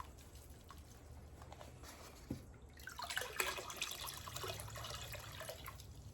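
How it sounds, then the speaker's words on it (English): Water leaking and dripping from a tub, a soft continuous trickle and patter close by with a brief sharp knock partway through, the splashing growing busier toward the end. "our tub's got a leak."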